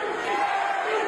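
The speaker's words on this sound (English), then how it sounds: "the crowd chanting Gary" A boxing arena crowd chants a name at a 2022 title fight, a broad, sustained roar of many voices holding steady and fairly loud.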